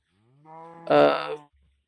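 A single cow in Minecraft lets out one clear, close, drawn-out moo that swells in the middle and then fades, with no talking over it.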